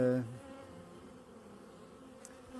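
Honeybees hum steadily around hives at an apiary in late October, a dense, continuous close buzz.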